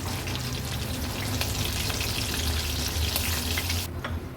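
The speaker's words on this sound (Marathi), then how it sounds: "छान क्रिस्पी होईपर्यंत मिरच्या आणि कढीपत्ता तळून घ्यायचा आहे" Chillies and curry leaves fry in hot oil with a steady, close, continuous sizzle and crackle that holds evenly throughout, with no voices.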